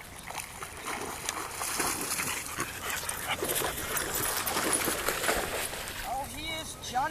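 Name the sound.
dogs whimpering during off-leash recall training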